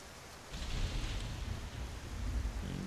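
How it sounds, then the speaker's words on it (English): Heavy rain pours steadily in the Alpyne modlist weather of a fantasy video game, a dense hiss with low rumbling, swelling after a quieter start and staying loud throughout. "This rain really is believable. How like heavy it's raining right now."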